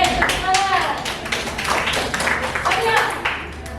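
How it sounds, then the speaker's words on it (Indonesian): Classroom of eighth-grade students clapping hands during a civics lesson, a loose burst of claps that is uneven and somewhat sparse, close by, with voices talking over it throughout. "Oke, tepuk tangan."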